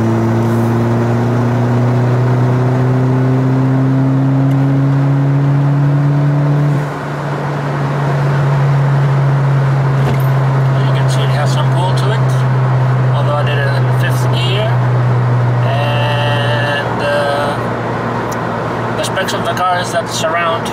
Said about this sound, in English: floor it with fifth gear.